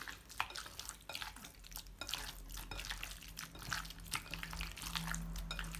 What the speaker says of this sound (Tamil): நல்லா மிக்ஸ் பண்ணிக்கலாம் எல்லாம் ஒன்றா சேர்கிற மாதிரி